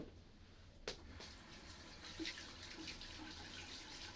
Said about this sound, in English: Let me just go and wash my hands and I'll do that for you.